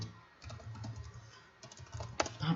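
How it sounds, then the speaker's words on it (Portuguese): Typing text into an Excel cell on a computer keyboard: a quiet, close run of irregular key taps in two short bursts with a brief pause between. "Então, digitar aqui algum texto."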